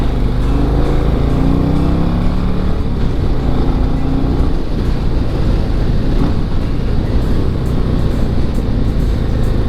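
A touring motorcycle with a 121 engine rides along, its steady low engine drone and road rumble running loud and continuous with no talk.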